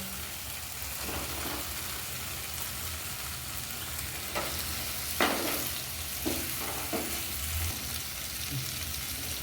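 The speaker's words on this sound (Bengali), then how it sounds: "মশলা কষানো হয়ে গেছে, এখন আমি দিয়ে দিব পনিরগুলো।" Paneer going into a pan of fried spice masala for paneer biryani, with a steady frying sizzle throughout and a few spatula scrapes and knocks against the pan.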